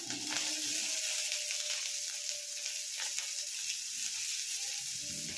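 Garlic, ginger and green chillies frying in hot oil in a pan for broccoli soup, a steady bright sizzle that stays even throughout with faint stirring, close and alone with no talk.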